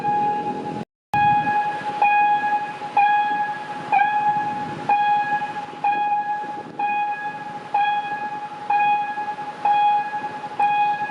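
A GEK diesel locomotive hauling a diesel railcar passes close by, its wheels clattering over rail joints in a steady rhythm, with long sustained tonal ringing running through the whole passage.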